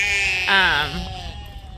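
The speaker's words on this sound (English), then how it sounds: "So the sheep are over in the pasture here." A sheep in a farm pasture gives a single loud, wavering bleat lasting under a second, close by, followed by quieter background sounds.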